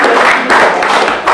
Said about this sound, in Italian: E facciamone un applauso per ringraziarlo.